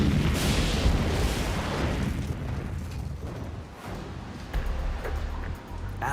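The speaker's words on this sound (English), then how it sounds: "only a series of very strong explosions can break it." A rapid series of heavy mine blasts breaking galena ore rolls through, deep booms and rumbling bursts overlapping into a continuous thunderous roar, then fading unevenly.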